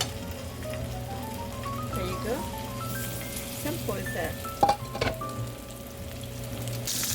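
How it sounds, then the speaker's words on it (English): A tuna steak sizzles and crackles steadily in a hot pan, a continuous frying hiss with a few sharper pops, while a person speaks briefly over it and a melodic tone runs in the background. "so ready to put the steak down. Hear the sizzle"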